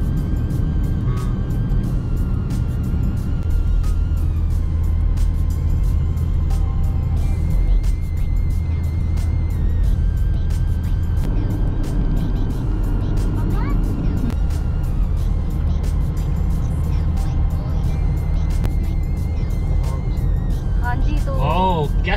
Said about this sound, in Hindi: अब तो हम नीचे नीचे जा रहे हैं, मुझे लगता है अब तेज होगी गाड़ी